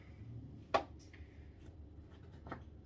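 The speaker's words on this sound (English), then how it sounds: "nearly done chopping up the butternut squash." A knife cutting through butternut squash on a board, two distinct sharp chops about two seconds apart over a quiet room background.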